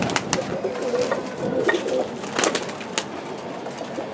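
Pigeons coo close by in soft repeated murmurs, joined by sharp clicks and a few wing flutters, moderately loud and without talk.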